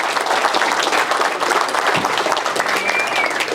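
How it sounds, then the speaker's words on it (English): Sustained applause from a crowd at a political speaking event, honoring a veteran named Mike; dense, steady clapping fills the whole stretch at a fairly loud level. "Give him a round of applause"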